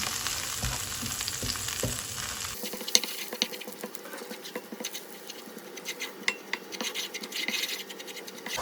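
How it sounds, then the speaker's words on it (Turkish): Two tablespoons of flour dry-roasting in a frying pan, stirred with scraping strokes and soft patter, close and steady throughout with no voices. "2 yemek kaşığı unumu tavama alıp un kokusu çıkıncaya kadar kavurmaya başlıyorum."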